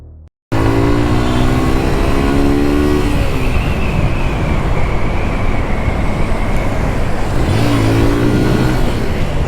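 Suzuki GSX-R motorcycles accelerate hard nearby, their loud engines rising in pitch through gear changes, with a second rising run near the end after a brief quiet start.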